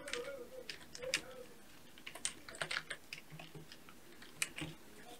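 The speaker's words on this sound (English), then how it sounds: "you type the name of your channel or your channel description" Typing a channel name on a computer keyboard, with soft, irregular key clicks in quick bursts, close and fairly quiet, with no talking.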